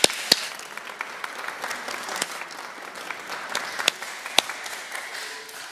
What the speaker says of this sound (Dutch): Zullen we hen gewoon een groot applaus geven.